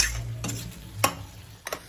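A spoon stirs chopped onion and tomato in a pan, giving a few soft scrapes and sharp clinks over a faint sizzle, close by and with no talking.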